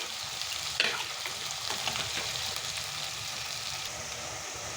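Chicken sautés in a pan for a homemade chicken masala, a soft continuous sizzle with occasional stirring clinks and scrapes, fairly quiet and steady, with no talking over it.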